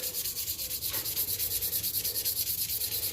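Wet sanding an old Sheffield stockman pocket knife blade by hand with 400 grit sandpaper dipped in water: a steady, close, rhythmic back-and-forth rasp, about eight strokes per second, with no talk.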